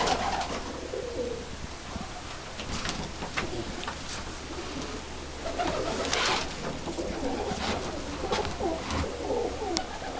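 A red grizzle cock pigeon in a stock-bird loft coos repeatedly, soft rolling calls over a steady low hum and faint ticking, with occasional nearby rustles.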